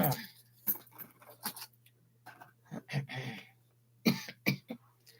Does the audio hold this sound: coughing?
yes